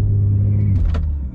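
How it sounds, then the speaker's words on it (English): BMW G80 held on the brake in first gear for a launch control attempt: a close, loud engine rumble with a brief rising rev burst near the middle, then settling back. "put the car in first gear right here. All right, I got my foot all the way down on the brake, and then I'm gonna see if I can launch the car."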